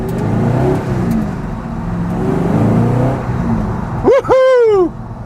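An Ultima RS pulls away on its first drive, a steady mid-pitched engine drone with a brief rising rev at the end while a voice cheers over it.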